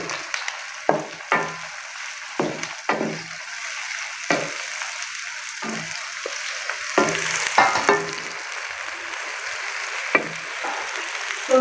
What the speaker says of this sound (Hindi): इधर देखिए जी हमारे प्याज है वो फ्राई हो रहे हैं